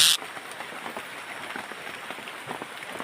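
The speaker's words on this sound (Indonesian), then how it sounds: "Kena guyur hujan kita." Rain pours down outdoors beside a ditch while fishing, a steady dense hiss of drops with no pauses, fairly loud and close throughout, after a brief sharp noise at the start.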